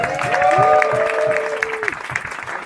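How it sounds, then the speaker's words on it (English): Wedding guests cheer and applaud the newlyweds Tom and Amber at their 2023 reception, loud clapping mixed with whoops and shouted cheers, a long rising cheer carrying over the crowd. "A massive cheer to the beautiful newlyweds, Tom and Amber."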